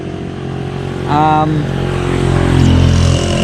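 A Honda Airblade 160 scooter runs on an open road, its engine a steady drone that swells toward the end beneath a voice.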